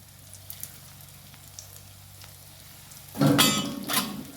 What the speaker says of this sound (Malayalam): ഇതുപോലെ എല്ലാം ഇട്ടിട്ട് നമ്മൾ പൊരിയെടുക്കും